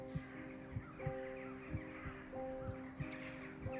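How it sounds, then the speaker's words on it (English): A crow caws repeatedly in the forest of the video game A Walk in the Woods, a series of loud, evenly spaced harsh calls over a steady droning ambient game soundtrack. "That is a very loud crow."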